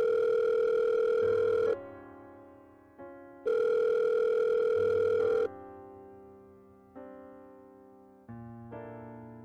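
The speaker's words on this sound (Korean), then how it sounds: "일단 아빠한테 전화해볼게." Telephone tones sound during a call: long, loud steady tones alternate with quieter stepped tones that drop in pitch and then fade. No one speaks.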